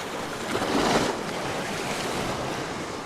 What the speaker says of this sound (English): So I'm just watching those waves.